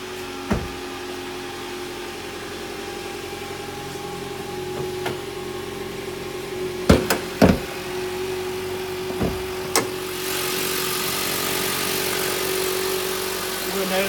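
A 2015 Mitsubishi Outlander with a 2.0 liter variable valve timing engine idles with a steady low hum, broken by a few sharp clicks and thumps, and then a louder rushing whir toward the end.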